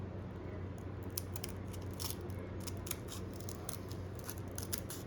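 Scissors snip repeatedly through Velcro strips, cutting them down the middle, in a quick series of crisp, close cuts over a steady low hum.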